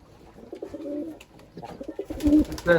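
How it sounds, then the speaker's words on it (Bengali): Giribaz pigeons coo at a large pigeon farm, several close, throaty rolling coos that come in bursts and overlap, growing louder toward the end. "এই দেখেন এটা গিরিবাস পায়রা"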